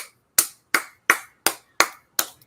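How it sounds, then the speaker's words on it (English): One person claps alone six times in a slow, steady rhythm at a sports-betting watch party during an NFL Thursday night Broncos vs Browns game, each clap sharp, close and cleanly separated with no talk. "All right, I'll clap."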